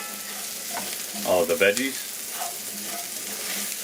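Vegetables for a pub-style shepherd's pie stirred and sizzling as they fry in a pan, a steady near sizzle with a brief louder scrape of stirring midway and a short spoken word over it.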